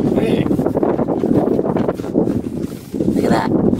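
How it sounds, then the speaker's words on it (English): Steady wind blowing outdoors beside a fifth-wheel travel trailer under renovation, a broad rushing noise buffeting the microphone throughout, with a person talking over it. "Sorry it's so windy today"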